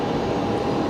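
Aircraft taxiing toward the domestic terminal at Brisbane Airport at night, a steady, continuous engine roar held at an even level for the whole moment with no voices over it.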